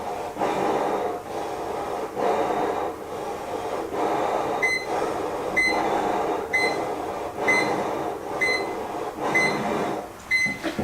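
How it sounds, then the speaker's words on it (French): A breathing mask's repeated electronic beeping alarm sounds in regular bursts roughly every second, over a steady whooshing of breath or airflow. "Donc là, vous entendez une alarme qui se met en route."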